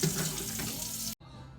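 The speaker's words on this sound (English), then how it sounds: "Now we fill the pot with water, about 3/4 of the way." A kitchen tap runs into a soup pot with a strong, steady rush of water close by, then cuts off abruptly. A quieter trickle and drips follow.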